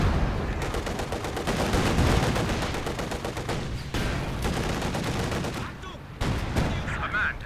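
Rapid gunfire and booming artillery shells crack through a Company of Heroes 2 2v2 battle, dense repeated bursts of shots layered with explosions, loud and continuous beneath a commentator's voice.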